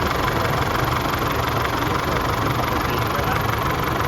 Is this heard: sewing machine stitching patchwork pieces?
no